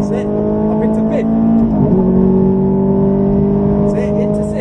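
A Ferrari engine on track shifts up into fifth gear and keeps pulling hard, its loud rising harmonic tone briefly dipping at the shift, with a voice talking over it.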